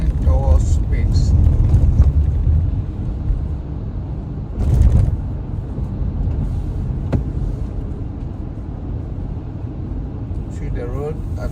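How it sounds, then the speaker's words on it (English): A car driving through rain and snow from the Bronx toward Queens in New York, with a steady low road and engine rumble throughout, a brief louder swell midway, and a person talking over it. "we are driving from Bronx heading towards Queens"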